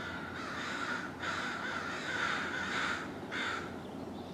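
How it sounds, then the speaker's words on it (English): Several crows caw outdoors in the early morning, their harsh calls arriving in four or five repeated bursts, fairly close and loud against a steady background hiss, with no talking. "Pesky crows."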